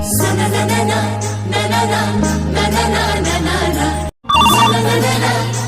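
A telephone rings repeatedly over loud background music, with a brief drop to silence near the end before the music resumes.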